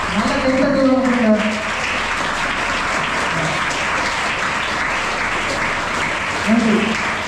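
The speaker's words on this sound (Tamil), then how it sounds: "நல்ல கைத்தட்டல் கொடுங்க." A crowd claps steadily at a school event honouring a student's world record, even sustained applause filling the space while a voice speaks briefly over it at the start and end.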